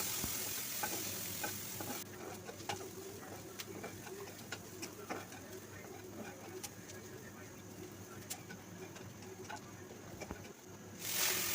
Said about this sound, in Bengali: দিয়ে কালো জিরা, দারুচিনি, পেঁয়াজ কুচি দিয়ে কিছুক্ষণ আমি এটাকে ভেজে নেব।